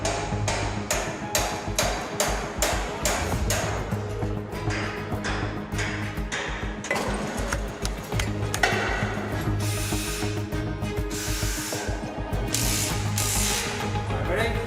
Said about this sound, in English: Guys will have to jack this section up another few hundred mil, and they weigh 7 tonne each section